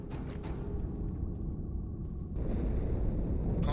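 A deep explosion rumbles inside the ship Athens in Halo 2, a sustained low roar that swells louder partway through and continues as a heavy, dense boom without speech.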